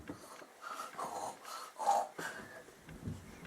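A child imitates snoring with a run of wheezy, snorting breaths in a repeating rhythm, close and fairly quiet, with some soft breathy noise in between.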